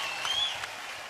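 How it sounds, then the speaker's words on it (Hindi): Applause for the contestants on the TV singing show Sa Re Ga Ma Pa, a brief steady wash of clapping from the studio audience with no voices over it. "जोरदार तालियां हमारे गर्ल पावर के लिए"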